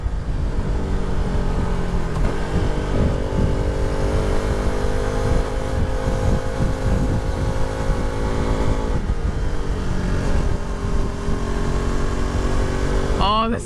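A KTM RC390 sport bike is ridden hard, its single-cylinder engine whining loudly as it revs up and down through gear changes. Wind rushes throughout, and a short voice is heard at the close.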